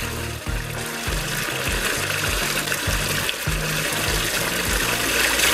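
Water with dissolving fertilizer is stirred continuously for a cucumber feed, making a steady close sloshing and swishing that runs throughout under a low, repeating tonal backing.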